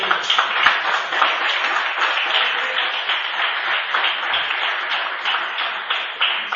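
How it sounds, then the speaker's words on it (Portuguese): A church congregation claps together during a sermon, producing steady, slightly tinny applause that holds at a moderate level for several seconds. "Vamos aplaudir o Senhor?"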